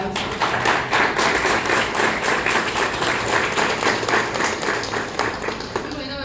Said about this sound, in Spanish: Le brindamos, por favor, un aplauso.